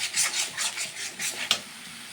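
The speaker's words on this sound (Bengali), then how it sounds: "এবারে হলুদটা দিয়ে দিলাম, দিয়ে সুন্দর করে নাড়াচাড়া করব" Turmeric being stirred into a pan of bottle gourd leaves, a series of rhythmic scraping strokes close by, about eight in quick succession, with no voices.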